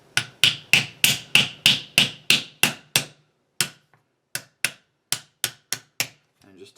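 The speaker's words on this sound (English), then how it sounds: "just tap on it gently until it seats into place" A soft-faced hammer taps a Taurus Tracker revolver part sharply about a dozen times in a quick, even rhythm, pauses briefly, then resumes with several more spaced, crisp knocks.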